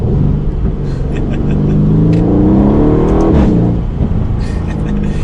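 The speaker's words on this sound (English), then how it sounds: "I love the V8 sound, just the way it sounds and everything." A deep, rumbling V8 engine of a 2020 Aston Martin Vantage roars loudly and steadily, rising in pitch as it accelerates, heavy exhaust burble throughout.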